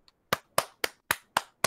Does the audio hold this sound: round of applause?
yes